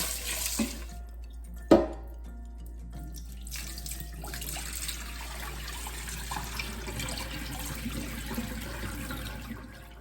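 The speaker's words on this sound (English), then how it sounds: "Take 1 cup of long grain jasmine rice in your Instant Pot and start washing it until the water runs clear." Jasmine rice is rinsed under running tap water in an Instant Pot liner: a sharp clunk, then a steady close stream of water splashing and swirling over the grains.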